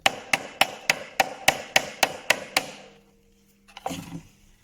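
A chisel hammered into the joint of a wooden Champagne box, about nine sharp evenly spaced mallet strikes close by, then a quiet pause and a few softer knocks.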